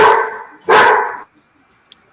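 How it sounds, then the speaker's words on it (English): A dog barks twice up close, two loud, full-bodied woofs in quick succession with a brief pause between, followed by quiet. "Better lock them dogs up."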